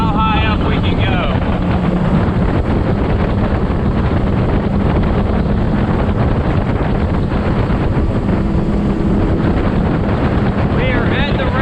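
A Tohatsu 30hp outboard pushes a Gheenoe LT25 at top speed near the rev limiter, a loud, steady engine roar with water rush and heavy wind buffeting on the microphone throughout.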